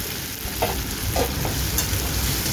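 Spice paste of fennel, ginger, cinnamon, chilli, a dried red chilli and coconut hitting a hot frying pan, sizzling steadily and loudly close up with a few stirring scrapes and no talking.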